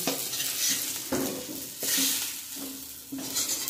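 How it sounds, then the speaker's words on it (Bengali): A spatula scrapes and stirs mashed flat bean paste around a frying pan in repeated strokes, soft sizzling beneath the close, rhythmic scraping. "দেখুন সিম বাটাটা নাড়তে নাড়তে হয়ে এসছে"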